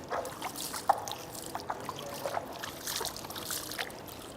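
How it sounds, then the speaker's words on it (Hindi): Water poured over the feet during ablution before prayer, a soft, uneven trickle and splash close by at low level, with no talking. "आप पानी लें और इस तरह पानी डालते जाएं और खिलाल करते जाएं"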